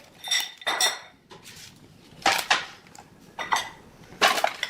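Chicken being tossed with garlic, balsamic vinegar and olive oil in a bowl, heard as bursts of clinking and scraping from a utensil against the dish, coming in short separated bouts, close up.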